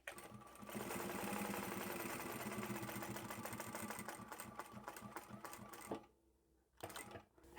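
Close and steady, a sewing machine stitches a small glasses pouch made from scrap fabric for about five seconds, then stops. A brief second burst of stitching follows after a pause.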